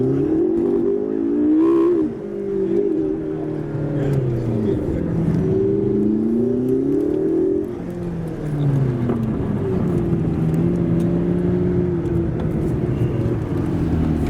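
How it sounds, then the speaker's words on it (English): A McLaren 650S supercar engine drones steadily with shifting pitch as it accelerates and eases off, loud and close throughout, during a supercar parade. "I'm now in the 650S in the middle of the supercar parade"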